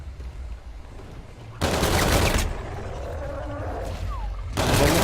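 A newly picked-up weapon fires in a zombies shooter game: two loud bursts of rapid automatic gunfire, the first about a second long and the second starting near the end, over a low rumbling background.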